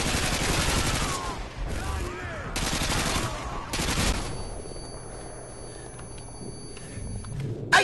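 Heavy bursts of turret gun fire in Call of Duty: Modern Warfare 2, loud dense blasts in several rounds, then fading to a quieter hum with a few scattered sounds.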